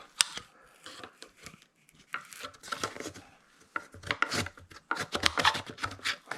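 Scissors or a blade cutting along a fold in material for a DIY multi-beard, multi-tail turkey mount, with intermittent snipping and rubbing sounds in irregular bursts, close up.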